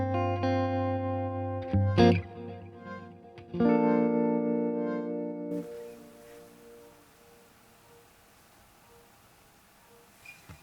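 Electric guitar played through a Fender Tone Master Pro set to a JC reverb amp model: a few strummed chords and single notes ring out with a reverb tail, then fade into a quiet, noisy decay.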